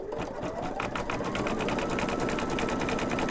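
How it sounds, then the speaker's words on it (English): An embroidery machine stitches the back onto a small notebook cover, its needle clattering in a fast, even rhythm close by, loud and continuous the whole time. "So now this is going to stitch the back on."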